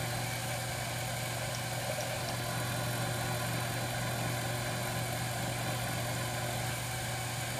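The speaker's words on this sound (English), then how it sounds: "Alright, so all of the machine operations on the lathe are done." A metal lathe runs at about 600 RPM with a steady, continuous motor hum and whine at constant loudness, close by and without talk.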